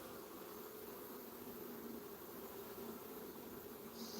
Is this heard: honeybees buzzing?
yes